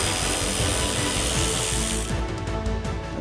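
A power tool whirs steadily while removing 13 mm nuts from a bracket on a Land Rover Defender L663, a loud continuous mechanical drone that drops off near the end.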